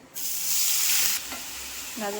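Grated carrots frying in ghee in a pan for carrot halwa, a bright hissing sizzle that swells as they are stirred, then drops to a softer crackle with a brief scrape near the end.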